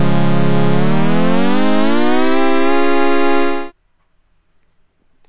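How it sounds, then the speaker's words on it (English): kseSynth software synthesizer holding one loud buzzy note that the pitch wheel bends smoothly upward before it cuts off abruptly into silence. "which allows you to control the pitch of the sound while you play it using the pitch wheel or the MIDI pitch wheel"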